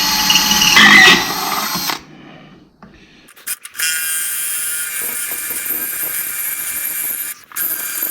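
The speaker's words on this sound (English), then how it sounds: "Suppose I ought to drill a few holes in that so I can spot weld it" A power drill bores holes in a rusty sheet-metal panel of a 1966 VW Bug under restoration: a loud, harsh whine for about two seconds, a pause with brief clunks, then a steadier high grinding run that breaks off near the end.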